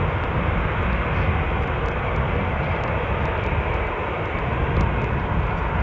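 A Lufthansa airliner arriving at Newcastle International Airport passes overhead, a loud, steady broadband engine roar filling the whole stretch with no talk.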